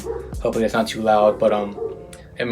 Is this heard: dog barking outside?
yes